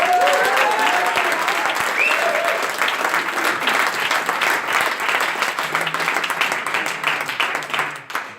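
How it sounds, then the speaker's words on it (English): A crowd applauds for several seconds at a startup weekend closing ceremony in Geneva, dense steady clapping with a few cheers mixed in, tapering off at the end. "let's give you guys a big round of applause"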